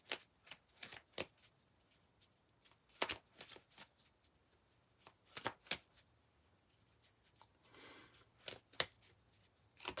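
A Kipper card deck is shuffled and handled in a quiet room, with short crisp riffles and flicks coming in scattered bursts separated by silence.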